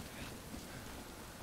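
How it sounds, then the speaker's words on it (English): Steady rainfall in the video game Death Stranding, a soft continuous hiss with low rumbling beneath, faint and unbroken with no voices. "Well, they left because of the rain."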